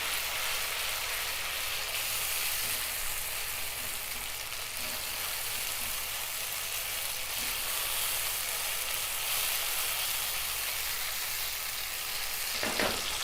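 Tomato paste sizzles and fries steadily in a hot pan while being stirred, a continuous dense crackle with no talking, for stuffed capsicum with keema.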